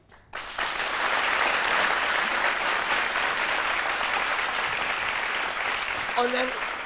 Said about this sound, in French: Et ça, c'est à acclamer.